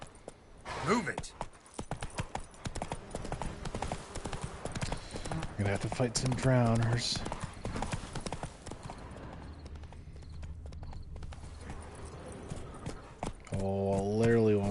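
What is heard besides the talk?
horse hooves clip-clopping in the video game Witcher 3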